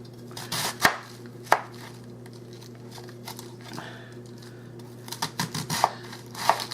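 A knife slicing through cabbage on a cutting board, sharp chopping strikes spaced irregularly, a few isolated cuts then a quicker cluster near the end, close and clear over a steady low hum.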